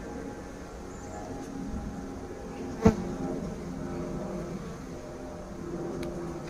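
Low, steady buzzing of bees throughout, with a single brief knock partway through.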